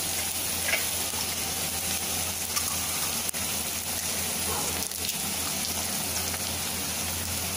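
Four eggs go into a hot pan for egg rice and fry with a continuous hissing sizzle, a few faint clicks and scrapes breaking through the steady noise.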